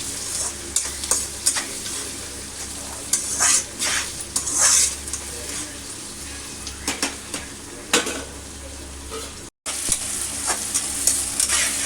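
Tomatoes cooking down with onions in a pan for a mutton curry, giving a steady close sizzle broken by repeated scrapes and clinks of a spoon stirring against the pan, with one brief dropout near the end.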